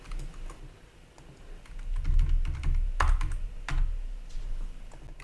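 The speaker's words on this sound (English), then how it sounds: "Using the keys on the keyboard to adjust my top layer of text." Computer keyboard keys clicking in irregular bursts and quick runs while text is adjusted during graphic design work, close and fairly loud with no talking.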